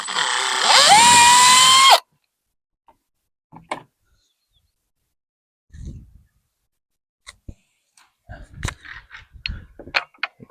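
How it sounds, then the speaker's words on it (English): A power drill whirs loudly and steadily for about two seconds, boring holes for a wooden fence gate latch, then stops; scattered light knocks and handling clicks follow. "take a pencil and mark the center of both of my holes and pull it out and drill those out"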